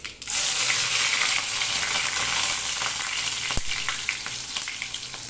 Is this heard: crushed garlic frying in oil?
yes